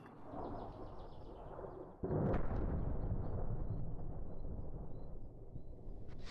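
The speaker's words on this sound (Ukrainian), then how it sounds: "Періодично чути звук прилітаючих ракет." A sudden heavy boom of an incoming rocket lands two seconds in, followed by a sustained low rumbling roar of distant impacts in wartime Bakhmut, with faint bird chirps above.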